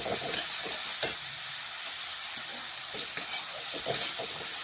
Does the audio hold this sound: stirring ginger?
yes